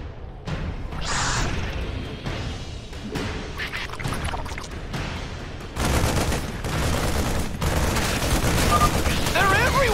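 Gunfire in the StarCraft 2 Heart of the Swarm video game, a dense chatter of rapid game weapon shots over steady battle noise, growing louder and busier toward the end, with game voice lines heard at moments.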